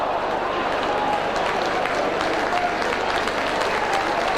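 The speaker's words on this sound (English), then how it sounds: "again applause all around the racecourse" Football crowd applauding around Wrexham's Racecourse ground during a 1999 match against Middlesbrough, a steady, dense wash of clapping and crowd noise filling the whole stretch with a commentator talking over it.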